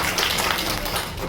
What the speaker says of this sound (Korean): 우리 한번 격려의 박수 해주세요.